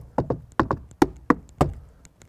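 Knuckle knocks on the hard plastic rear door trim of an Audi S3 saloon, about eight short dry taps in uneven pairs, close and clear.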